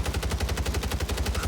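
Rapid automatic fire from the SOA Subverter rifle in Warzone 3, a steady unbroken burst of loud, evenly spaced shots close up, with no voices.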